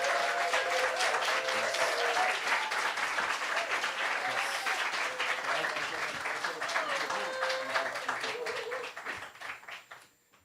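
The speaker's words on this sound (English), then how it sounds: "Let's give a round of applause to our host," An audience at a poetry book launch at Beyond Baroque in Los Angeles gives a host poet a warm round of applause, steady dense clapping with scattered voices that tapers off at the end.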